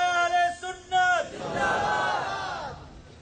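A crowd at a religious gathering roars back chanted Islamic slogans in unison, following a leader's amplified call, the massed voices swelling loud and sustained before fading.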